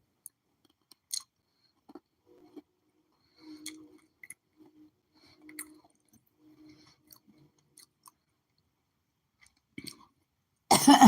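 Quiet, sparse chewing of a chalky ginger tablet, with soft crunches and mouth sounds spread across the stretch, a throat-clearing cough, and a louder burst at the very end.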